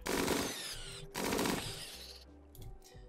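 Rapid automatic gunfire from the Rimworld video game, two dense sustained bursts of loud shots followed by a quieter stretch with a few scattered reports.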